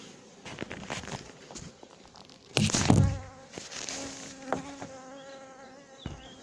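A honeybee swarm gathered inside a cardboard box hums in a dense, wavering drone, close by, with a loud rustling thump near the middle and scattered taps and shuffles around it.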